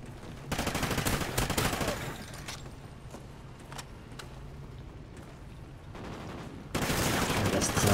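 Assault rifle fire in a multiplayer shooter video game, rapid full-auto bursts loud and close, with a sustained burst at the start, scattered shots in the middle and another heavy burst at the end.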